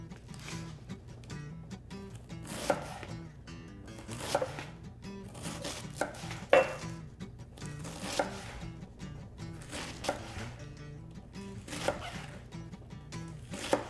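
A knife chops cabbage into fairly large chunks for a tostada garnish, with steady, repeated sharp taps against a cutting board.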